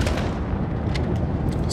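Explosive barrels blow up in Call of Duty Modern Warfare as a dense, loud roar of blasts and rumbling debris, continuous and heavy throughout with sharper cracks near the end.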